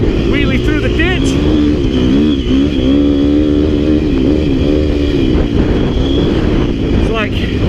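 A KTM 250 XC-F dirt bike revs hard on a ride, engine note rising and falling in a loud, continuous buzz close to the mic while the rider talks over it.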